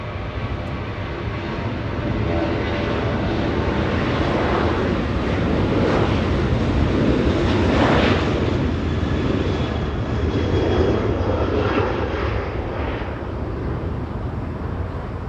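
Delta Air Lines Airbus A321 arriving from Atlanta to land on runway 24 right at Los Angeles International Airport, a steady broadband jet roar that swells and peaks midway before easing, with wind buffeting the microphone throughout.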